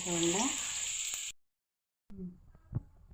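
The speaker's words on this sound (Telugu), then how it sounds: "అవి నూనె కాగిపోయిందండి ఇలా నూనెలో వేయించుకుంటానండి" Jackfruit pieces frying in hot oil in a small pan give a broad crackling sizzle, which stops briefly and then resumes more quietly with a sharper pop near the end.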